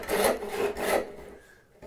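A hand saw cuts into wood for a half lap joint, two long rasping strokes back and forth, close and fairly soft, then trailing off.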